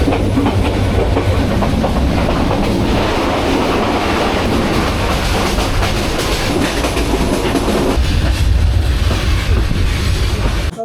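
The Kalni Express train runs loudly and continuously on the tracks between Dhaka and Sylhet, at night after leaving Shaistaganj station, wheels rumbling with rhythmic clacking, heard from close by.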